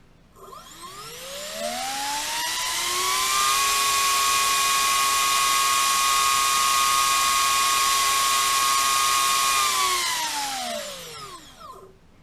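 A motor-driven 2.5-inch toroidal propeller spins up to a steady high whine with strong tonal hum around 1000 Hz, holds for several seconds, then winds down.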